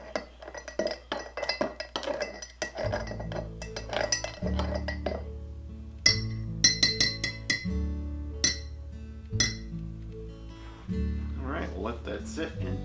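A die-cast Matchbox Claas combine harvester part is stirred in a glass jar of caustic soda, producing repeated close glassy clinks and rattles while background music plays throughout.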